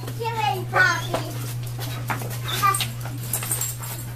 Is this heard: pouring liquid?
no